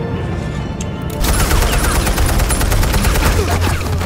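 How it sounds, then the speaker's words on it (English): Heavy automatic gunfire from Batman: The Telltale Series erupts after a second of quieter noise, then keeps up as a loud, dense, continuous volley of rapid shots up close. "what are you shooting that gun at"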